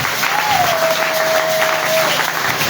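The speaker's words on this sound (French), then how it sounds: "Acclamez le Seigneur" Sustained applause from a church congregation during a French-language sermon, a dense even clatter of clapping hands throughout, with a thin steady tone running beneath it.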